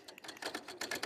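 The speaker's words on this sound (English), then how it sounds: "The sewing machine is saying no to us." Sewing machine running in bursts during a live sewing demonstration with bobbin trouble, giving a soft mechanical whirring and clicking that stops and restarts several times, close and moderately quiet, with no talk.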